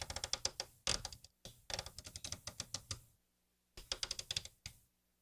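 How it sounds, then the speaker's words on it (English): Clicky knobs on an Oberheim Matrix-12 synthesizer being turned close to the mic, giving rapid bursts of crisp detent clicks in uneven runs, with a short silent gap before a final flurry. "As far as the knobs, they're a little clicky."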